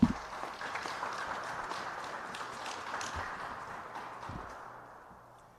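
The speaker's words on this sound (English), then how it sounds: "Let's give Brother Trey Hearns a round of applause." Applause rises at a rally for Brother Trey Hearns at a Minneapolis justice gathering for Amir Locke, a steady moderate crowd clapping that holds through most of the stretch and thins out toward the end.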